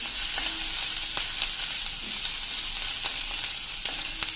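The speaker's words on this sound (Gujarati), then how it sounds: "અને હવે આ બધું આપણે સરસ તેજ સોતે કરી લેશું." Spices with a pinch of asafoetida sauté in oil over a low flame, a constant close sizzle broken by repeated light scrapes of stirring, and no voices.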